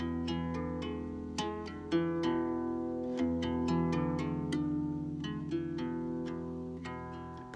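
Slow, twangy cigar box guitar notes plucked one after another by tapping and pulling off, each ringing over a low sustained drone, close and clear.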